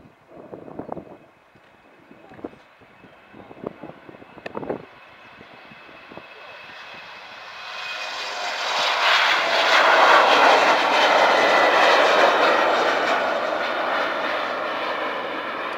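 A Flybe airliner comes in to land at Doncaster Robin Hood Airport. Faint scattered knocks come first, then a broad engine roar swells from a distance and holds loud and steady as the plane passes.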